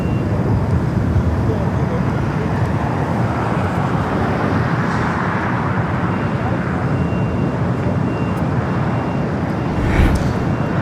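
An airliner departing LAX for Portland gives a steady broadband jet roar with rumbling low end that swells in the middle, moderately loud, with speech running over it.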